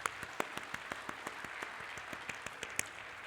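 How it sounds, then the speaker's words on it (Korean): A church congregation at a Christmas service applauds the mothers, a modest burst of scattered individual claps with a few sharp louder ones, fairly steady and moderately quiet throughout. "우리 남편 여러분, 우리 어머니들을 위해서 박수 한번 해줍시다."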